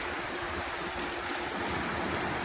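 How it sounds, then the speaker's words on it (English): Ocean surf washes steadily against the jetty at Ponce Inlet, a continuous broad rush of breaking waves with no talk and a faint hiss of wind over it. "We talked about the types of waves, right? Now you can actually see one for real."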